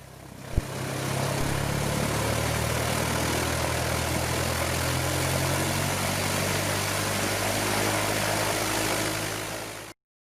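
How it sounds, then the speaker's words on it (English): A 1969 Cessna 172K Skyhawk engine and propeller run up with a loud, steady, smooth drone that swells and holds at a constant level, then stops suddenly. "And then hear how smooth this engine runs while accelerating."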